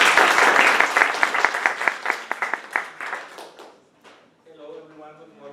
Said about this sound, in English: Please give a round of applause to Pedro.